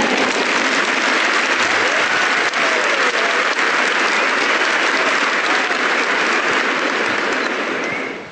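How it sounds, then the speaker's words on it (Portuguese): Loud, dense applause from a church congregation fills the whole stretch, steady and unbroken, with a few voices mixed into the crowd noise before it tapers off at the very end. "So this young lady from Paraguay is always clapping the loudest."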